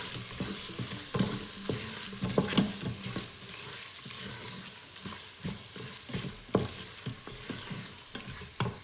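Chicken pulao base cooking in an Instant Pot before the chicken goes in, with steady sizzling and frying and repeated scraping stirs of a utensil against the pot, close up and without speech.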